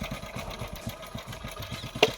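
A motorcycle engine idles close by with a steady low rumble that runs throughout, and a short sharp sound comes near the end.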